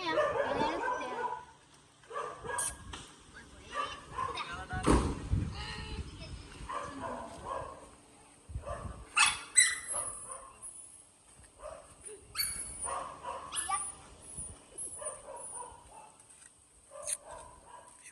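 Dogs bark, yip and whimper in short scattered bursts, some close and some farther off, mixed with people talking and background noise.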